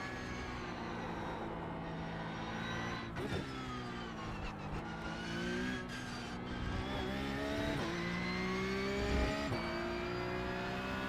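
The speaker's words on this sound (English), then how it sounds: "This is the Porsche Cup car, and this is Mexico" A Porsche Cup race car engine in iRacing at the Mexico circuit holds a steady, droning whine, with pitch rising and falling through gear shifts and throttle changes, faint and continuous with no talking.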